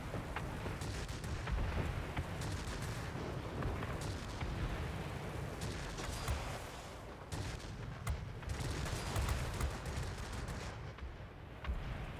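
Rapid aircraft cannon and machine-gun fire during a World of Warplanes dogfight with a Ki-93 heavy fighter, dense continuous bursts and rattling shots over a steady engine roar.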